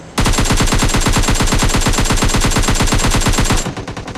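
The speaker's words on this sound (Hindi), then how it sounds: "हम जैसे इसका गन साउंड आता, मतलब इसी बानोस की तरफ से आया था" Rapid automatic gunfire in PUBG Mobile Lite rattles in one loud, unbroken burst of evenly spaced shots for about three and a half seconds, then cuts off into a short tail.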